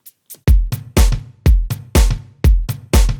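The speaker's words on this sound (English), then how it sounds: "And then we go for this classic organic direction with 6 hats." A drum beat in a classic organic style carries a layered pattern of six hi-hats over kick and snare, crisp repeated ticks in a steady loop heard close and alone.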